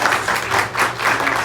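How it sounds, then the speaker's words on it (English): An audience at a school awards ceremony applauds its winners with a short burst of clapping that swells and eases in waves, heard alone. "Can we just give all of our winners another round of applause?"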